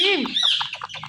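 An Indian parrot calls at close range: a swooping squawk followed by a rapid run of short, chattering chirps that sound almost like speech.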